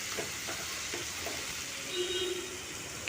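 Spiny gourd (kakrol) frying in a pan with a ladle of water added gives a steady, close sizzle, with faint scraping near the start.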